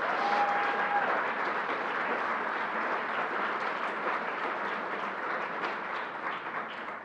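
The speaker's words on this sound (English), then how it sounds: "Let's give it a big round of applause." Steady, dense applause from a large crowd at a press conference announcing LEGOLAND New York in Orange, continuous and full for the whole stretch, tapering slightly at the end.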